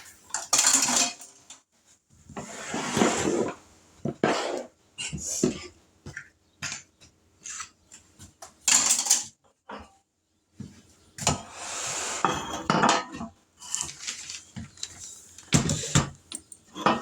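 Metal baking pans, including donut pans, clatter and scrape in bursts as they are moved and stacked, with sharp clanks and pauses between.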